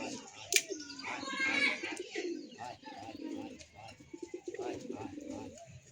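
Pigeons at a loft coo in low, repeated rolling calls close by, with a few chirps and a brief flutter, while people talk quietly in the background.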